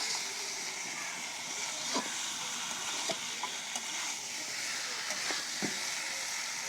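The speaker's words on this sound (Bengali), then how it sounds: "সুন্দর করে নাড়ে সাড়ে মশলা মিশিয়ে নিব।" Spices being stirred into chicken curry in a pan, with steady frying sizzle and hiss and several scraping spoon strokes at intervals, close by with no talk.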